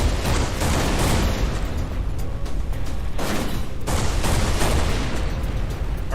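Rapid bursts of flak cannon fire from four locations on a ship in the space game Everspace 2, dense overlapping booms and pops forming a continuous loud barrage with a few heavier surges.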